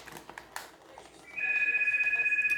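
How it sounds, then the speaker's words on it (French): A house telephone rings in the background of a home kitchen, a steady repeating electronic trill that starts partway through and continues to the end, loud and close, after some brief talk and kitchen noises. "tu laisses le téléphone sonner de la maison, c'est pas grave"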